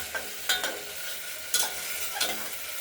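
Red lentils (masoor dal) are stirred in a pan, giving a few soft, scattered scraping and shuffling strokes over a faint background hiss, with no voices.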